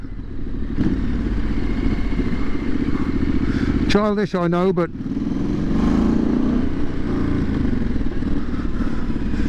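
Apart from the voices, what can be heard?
motorcycle exhaust revving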